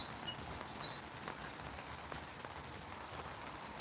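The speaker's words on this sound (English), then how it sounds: "Yeah, it's raining, buddy." Steady rain patters across a surface, a soft continuous hiss with scattered droplet taps, no voices.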